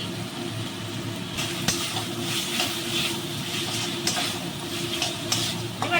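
Spice masala frying in oil in a pan for an egg and pointed gourd curry, a steady close sizzle with soft stirring scrapes and no talking.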